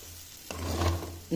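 Pigeon pea zunka is stirred in a kadhai with a scraping swish over a low sizzle, brief and close.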